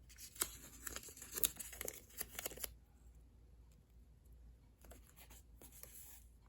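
Adhesive tape is pulled and pressed around the edges of a wooden board for an epoxy inlay, giving faint, close crinkly rips and rubbing in short bursts, then a quiet lull before a final few strips.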